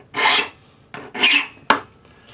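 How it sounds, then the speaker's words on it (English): Three rasping strokes of a flat No. 2 cut hand file across a metal pendant braced against a bench peg, two long pulls followed by a short sharp one, close and fairly loud with brief pauses between. "we're going to use our flat number 2 cut hand file for doing the outside curves"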